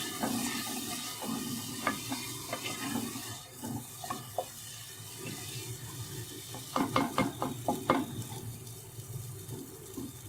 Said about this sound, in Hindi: मसाला भून रहा है